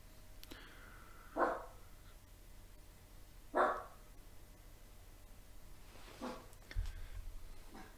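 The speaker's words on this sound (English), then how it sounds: "you guys can hear barking and growling in the background." A dog barks in the background: three separate woofs spaced about two seconds apart, moderately far off, over a steady low hum with no talking.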